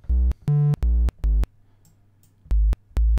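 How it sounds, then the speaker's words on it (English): Triangle-wave notes from the VCV Rack software synthesizer: six short, soft-edged, mellow tones, four in a quick run and two more after a pause, with no voices. "triangle wave,"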